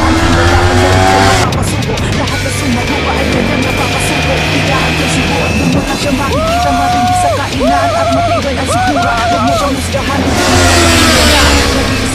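A Kawasaki Ninja 400 motorcycle engine roars loudly and steadily with rising revving passes, close by and continuous over about twelve seconds, with voices audible in the background.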